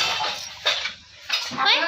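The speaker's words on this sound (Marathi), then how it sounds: "भांडी आपटायची नसतात" Metal dishes clatter and clink in a few sharp bursts with brief pauses between, as if banged about during washing, close and moderately loud.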